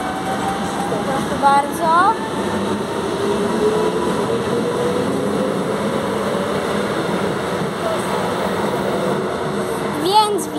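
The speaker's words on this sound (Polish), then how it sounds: "Pociąg będzie zaraz odjeżdżał z peronu." Passenger train pulling away from a platform in Gdynia, a steady low rumble and rolling noise running throughout, with brief squealing tones near the start and end, and a voice speaking briefly over it.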